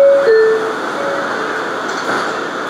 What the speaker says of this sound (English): This is a Queensbound J local train.